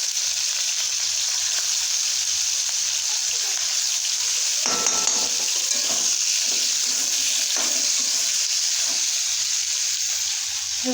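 Steady hissing sizzle of paneer pieces frying in hot oil in a kadhai, loud and continuous throughout, with a few clinks and scrapes partway through.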